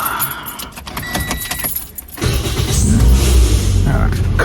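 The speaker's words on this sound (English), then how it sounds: "let's get this car started" Car keys jingle and rattle for a couple of seconds, then the engine cranks and catches, settling into a steady low idle with a slight rev; a voice speaks over the jangling.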